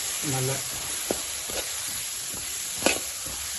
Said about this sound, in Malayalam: അപ്പോൾ നമ്മളിത് നന്നായിട്ട് ഇളക്കി കൊടുക്കുകയാണ്.